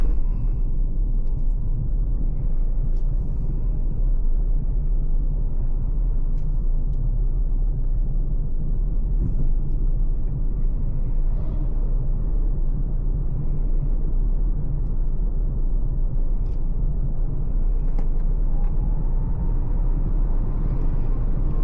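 A 2021 Vauxhall Corsa E accelerates to the road speed limit, a low, even rumble of an electric drivetrain and road noise heard from inside the cabin, steady and unbroken without any talk.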